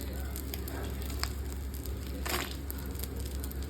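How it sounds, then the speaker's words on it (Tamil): Curry leaves, dried red chillies and garlic frying together in a pan, giving a steady, dense sizzle dotted with small crackles and pops throughout. "கருவேப்பிலை வந்து நல்லா முருகலாகிற அளவுக்கு ஃப்ரை பண்ணணும் கூடவே வரமிளகாயை போடணும் பூண்டையும் சேர்த்துடணும்"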